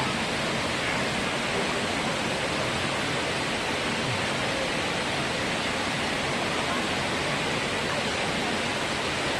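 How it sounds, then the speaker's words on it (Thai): Sarika Waterfall in Nakhon Nayok heard from its base, a dense, steady roar of falling water that fills the whole stretch evenly and loudly with no breaks. "อันนี้ก็จะเป็นบรรยากาศาใต้น้ำตกสาลิกานะครับ"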